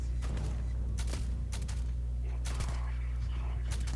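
Sniper rifle shots ring out in a video game: several sharp cracks spaced irregularly over a constant low engine-like hum, with a few quieter clicks between them.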